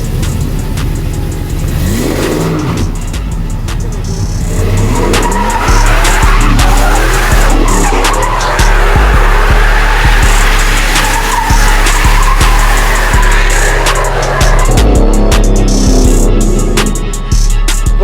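A 2001 truck does a burnout with its engine revving hard and tires squealing loudly and continuously, the screech rising and wavering close by for the whole stretch.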